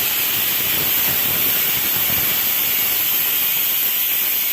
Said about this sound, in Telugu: కుక్కర్లో 2 విజిల్స్ వచ్చే వరకు